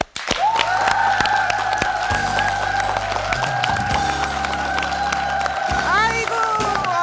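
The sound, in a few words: studio audience applause welcoming guest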